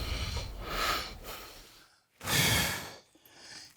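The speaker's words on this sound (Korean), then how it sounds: "천천히 걷는데도 가쁜 숨소리가 심상치 않다" A man walking slowly on a local hillside trail breathes heavily and with effort: long, rough exhalations and sigh-like breaths, one pause, then another strong breath, close up, with no speech.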